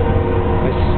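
A train passes on a railroad track right beside a small storage-unit lab, heard as a loud, steady, dense rumble and roar filling the whole second.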